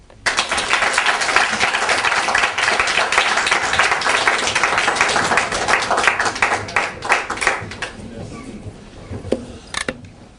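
A conference audience in New York gives dense, loud applause for Dr Ahipeaud Martial, rapid clapping that fills the room for several seconds before thinning into scattered claps and a few final loud ones.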